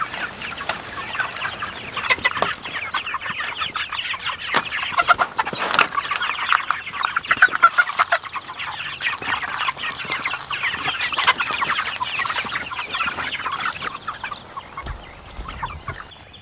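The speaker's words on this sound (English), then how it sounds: "And moving these chickens twice a day." Chickens cluck and chatter continuously inside a chicken tractor on a small homestead, a busy layered flock close by with occasional louder squawks and no talk.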